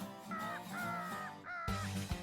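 Several crows caw in Milledgeville, Georgia, harsh repeated calls overlapping close by, with a louder burst near the end.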